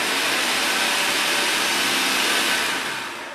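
A food processor blends oats into a coarse meal with a loud, steady broadband whir that holds constant for about three seconds and then begins to fade as the motor runs down.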